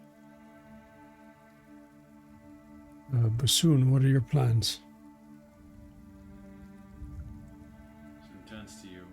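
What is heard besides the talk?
soft rain falling outside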